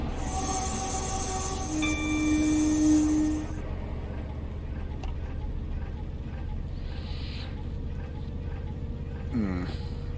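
A train in Train Simulator Classic on a run from Peterborough to York rumbles steadily with a low hum, while a brief high whine and squeal rise early on and a faint horn-like tone sounds near the end.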